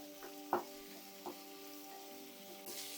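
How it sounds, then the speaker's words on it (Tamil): Onion and capsicum sauté in a pan for egg chilli, with a faint, steady sizzle and a couple of sharp utensil taps against the pan. "ஆனியன் வந்து லைட்டாக இப்படி போட்டு வதங்கும் போதே எடுத்து வச்சுருக்கிற இந்த கேப்சிகம் குடமிளகா அதையும் கொடுக்கும் இது ரெண்டும் ரெண்டு நிமிஷம் வதங்கட்டும்"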